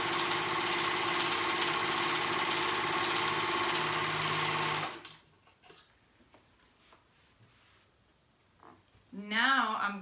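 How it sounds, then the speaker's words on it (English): A sewing machine hums and clatters steadily while stitching a dress cuff seam into one continuous loop, running loud for about five seconds before stopping abruptly into quiet room noise and a brief voice. "So I'm gonna go ahead and sew that together to make it one"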